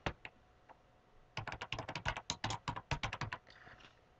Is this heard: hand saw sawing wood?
no